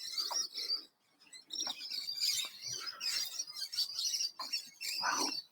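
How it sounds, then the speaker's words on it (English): Birds sing and chirp in the Bendigo Botanical Gardens in Victoria, Australia. Several bright, overlapping calls come in bursts over about five seconds, with a brief pause near the start. No one speaks. "Birds are the most beautiful things."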